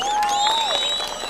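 A crowd applauds and cheers at a William Ruto development tour rally in Gusii, a steady, loud wash of clapping and voices with a sustained whistle-like tone running over it throughout.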